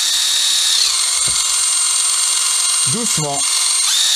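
An INGCO ICWLI2001 cordless impact wrench runs with a steady, loud high-pitched whir throughout, while someone speaks briefly over it.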